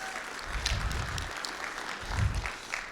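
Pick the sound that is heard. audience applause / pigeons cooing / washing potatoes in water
audience applause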